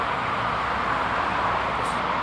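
A continuous broadband roar of distant highway traffic fills the background, steady and unbroken throughout.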